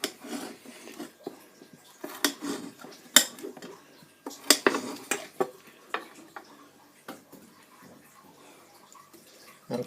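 Sharp knife cutting sausage on a board for a stew, a run of quick, close taps and clicks in irregular rhythm, with light clattering of kitchen utensils between cuts.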